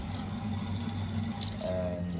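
A Kangen water ionizer dispenses a steady stream of water into a cup, a continuous close trickle over a low machine hum, with no talking.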